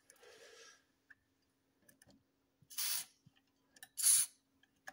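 An aerosol spray can squirting on the boot light parts of a Jaguar XK8, with two short hissing bursts in a quiet room, surrounded by small clicks and handling taps.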